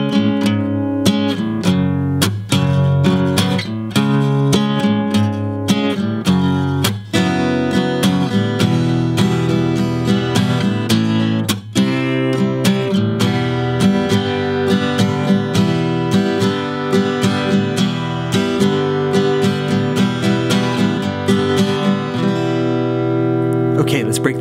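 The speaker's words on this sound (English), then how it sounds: "Now we're ready to jump into the chorus section, where we're going to be utilizing some power chord shapes." Electric guitar strums power chords through the chorus of a song, playing steady rhythmic chords that ring continuously and are close and fairly loud, with nothing else heard.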